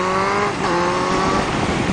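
A car engine revs hard under acceleration on a twisty road ride, with rising harmonic whine over the whole stretch, loud and close, with no talking.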